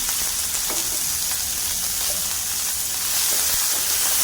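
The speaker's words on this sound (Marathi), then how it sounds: "आणि हा आता भाजून घ्यायचं तेल सुटल्यानंतर असंच करत करत आवाज काय भारी यायला लागलाय बघा" Chili thecha roasts in a generous amount of oil in a pan, giving a loud, steady frying sizzle with faint crackles, close up and uninterrupted, with no voices.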